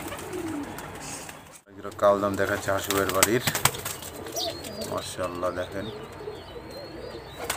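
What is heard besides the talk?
high flyer pigeons cooing at a pigeon farm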